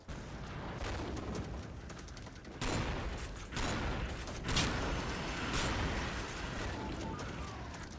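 Big guns firing in the Killing Floor video game, heard as a dense, continuous roar of heavy gunfire with repeated louder blasts, loud throughout.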